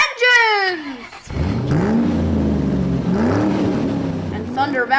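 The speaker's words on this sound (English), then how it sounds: "Thunder Valley comes to life with the roar of engines" Stock car engines fire up and roar together at Bristol, a half-mile NASCAR short track, a loud sustained rumble that swells after a brief voice at the start and holds steady, with a voice returning faintly near the end.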